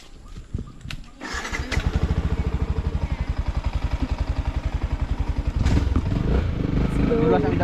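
A motorcycle engine runs close by on a wet road after rain, starting with a few bangs and then chugging in a steady, fast, loud beat that grows heavier toward the end, with people talking over it.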